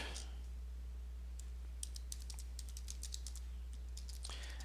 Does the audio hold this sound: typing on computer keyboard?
yes